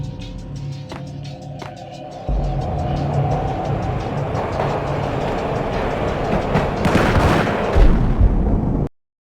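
A train in the video game Max Payne rumbles steadily with a low rolling drone and rhythmic clicks, growing louder and rougher toward the end before cutting off abruptly, with no voices.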